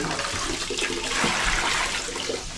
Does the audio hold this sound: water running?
yes